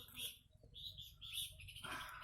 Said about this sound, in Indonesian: Nggak tahu ini jenis burung apa ya